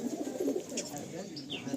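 A long-size Nazra Kaldom pigeon coos in brief, low murmurs nearby, with a little faint background noise.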